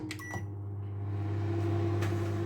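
A microwave oven runs while melting chocolate with butter, giving a steady low electrical hum with a constant drone, a few faint clicks near the start, and no talk.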